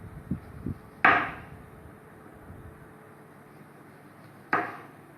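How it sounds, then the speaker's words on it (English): A knife trims both ends of a sweet lime, leaving two sharp, close cutting knocks several seconds apart. A few softer taps come before them against a quiet background. "this sweet lime. I will trim both sides."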